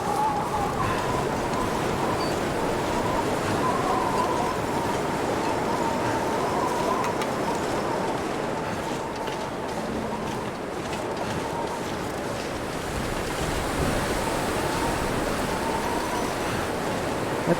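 Strong, steady wind roaring across a snowy wilderness in The Long Dark, a dense continuous broadband rush with slow gusting swells and no voices.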